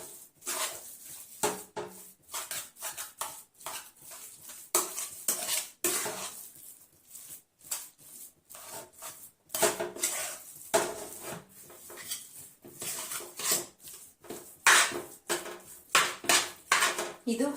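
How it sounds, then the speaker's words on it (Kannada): Potato filling for North Karnataka-style aloo paratha is stirred in a bowl, with repeated scraping, clinking spoon-on-bowl knocks and irregular bursts of clatter close by. "ಮಸ್ತಾಗಿ ಮಿಕ್ಸ್ ಮಾಡಿ ನೋಡ್ರಿ"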